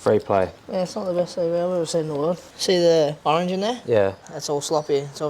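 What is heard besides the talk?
No everyday noises stand out.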